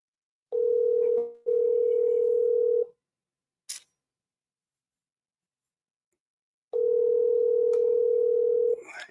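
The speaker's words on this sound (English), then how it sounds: "She ain't answering the phone." A telephone rings out unanswered: a steady electronic ringback tone sounds in two long bursts separated by silence and a brief click.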